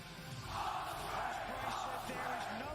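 A live wrestling crowd at AEW WrestleDream 2024 roars loudly, a broad sustained cheer that swells after the first half second and holds steady, with shouts rising out of the din.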